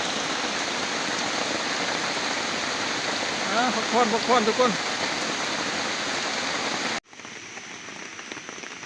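Steady rain falling in a forest, a dense even hiss of drops that cuts off abruptly near the end to a quieter patter, with a voice speaking briefly partway through.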